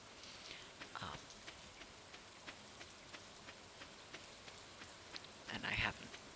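Steady rain falls in the Stardew Valley video game, a soft, even patter of drops that stays low and constant, with a few brief thuds rising above it.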